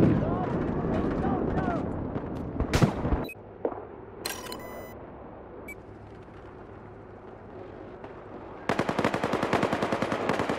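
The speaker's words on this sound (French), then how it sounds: "mitrailleuse hostile juste à l'est." Battlefield 4 battle sounds with hostile machine gun fire: a dense rattle of gunfire and blasts at first, a quieter stretch with scattered shots, then rapid bursts of automatic fire returning near the end.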